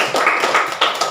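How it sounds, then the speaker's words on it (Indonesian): Classroom students clap for a student group after a presentation, a brief burst of several quick, close claps from a small group in a room, lasting about a second. "Tepuk tangan dulu untuk kelompok 3."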